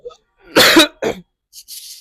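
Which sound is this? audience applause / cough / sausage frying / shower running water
cough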